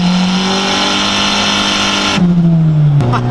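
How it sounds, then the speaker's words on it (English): Honda Civic EG hatchback with a turbo, its engine roaring loud and close at high revs, then the pitch drops in steps as the car shifts. "We literally just did a one-wheel peel. I dumped second and I just couldn't get traction."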